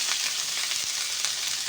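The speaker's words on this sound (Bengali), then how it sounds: "দিয়ে এখানে বেটে রাখা সমস্ত মশলা আমি দিয়ে ওইটা কষাই নেব।" Ground spice paste fries in hot oil for a water spinach and salted hilsa dish, giving a close, continuous sizzle with soft stirring crackles and no voices.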